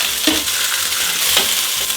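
Beef short ribs searing in a hot pan, a loud continuous sizzle close up with a couple of brief scraping stirs.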